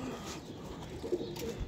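Pigeons coo softly in a loft where breeder pairs are kept, low murmuring calls under a steady ambient hum, fairly faint and close.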